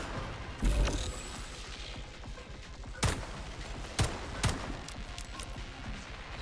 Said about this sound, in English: Oh, the rockets!